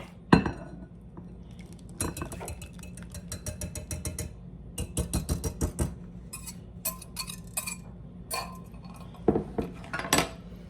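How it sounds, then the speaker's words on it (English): Banana muffin batter being folded into dry ingredients in a bowl, a spoon or utensil clinking and scraping against the bowl in irregular bursts of close taps, with no talking. "And we are going to just mix it until it is just mixed."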